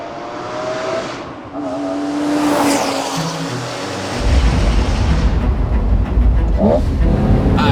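A Lamborghini Murcielago V12 driving, engine drone building and shifting, a harder surge of revving and tire noise in the latter half, close and loud inside the cabin.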